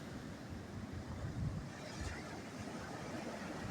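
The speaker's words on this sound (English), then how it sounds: "It's just beautiful seeing the waves just come in." Ocean waves roll in on a private beach lined with rentals, a continuous soft wash of surf with wind noise and no talking.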